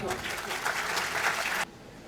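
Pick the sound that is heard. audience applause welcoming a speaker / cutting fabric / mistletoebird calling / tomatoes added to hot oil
audience applause welcoming a speaker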